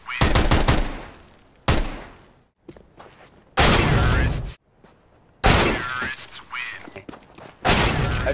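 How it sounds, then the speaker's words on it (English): Bursts of pistol gunfire in CS:GO, rapid cracks clustered in several loud volleys separated by short silences, each string of shots sharp and close with echoing tails. "I'll show you all the pistols that are overpowered and what it looks like to shoot somebody real fast"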